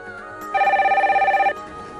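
A telephone bell rings once in a steady one-second burst of rapid, even trills, close and clear, with faint room sound before and after.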